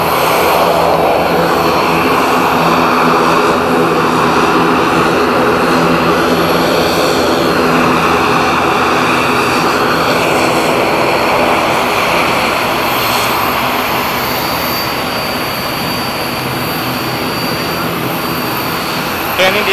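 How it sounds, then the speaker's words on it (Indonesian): Garuda Indonesia airplane engines roaring at Domine Edward Osok airport in Sorong, West Papua, a loud, steady jet whine and rumble held throughout with faint voices mixed in. "Oke, ini dia pesawat kita ke Ambon"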